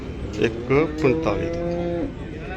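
Buffaloes at the Mansa livestock market give several loud, close, drawn-out moos in quick succession over steady background market noise.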